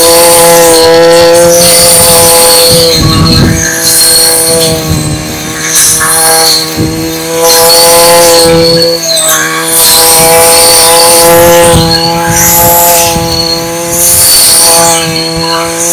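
A brush cutter fitted with a cheap home-centre tip saw blade cuts grass, its engine whining loudly and steadily with harmonic tones that rise and fall in repeated surges as the blade bites through the growth.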